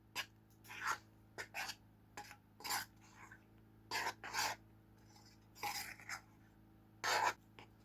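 A spoon scrapes and knocks against a bowl in short repeated strokes as flour is worked into homemade bread dough, each stroke a brief separate scrape with quiet pauses between.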